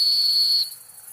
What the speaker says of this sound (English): Oh, I think she heard his whistle.